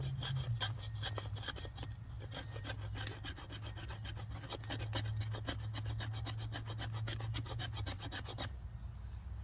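A file rasps along the spine of an ESEE 6 knife in quick, regular strokes, a close, dry scraping rhythm running steadily before stopping near the end, over a low background hum.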